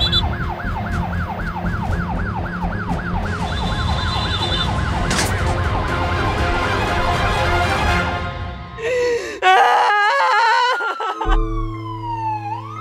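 An ambulance siren wails in a steady repeating up-and-down cycle over road traffic on a highway, loud and close throughout, then gives way to a shifting electronic tone near the end.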